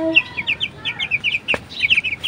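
A colorful chicken gives a rapid series of short, high clucking chirps in quick rhythmic bursts, close and fairly clear, with a single sharp knock partway through and no voices.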